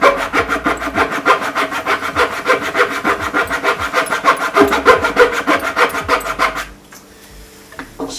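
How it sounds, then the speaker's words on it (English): Wood being cut with a hand saw in fast, even back-and-forth strokes, close and loud, continuing steadily for several seconds before stopping, leaving only a faint background. "continue sawing"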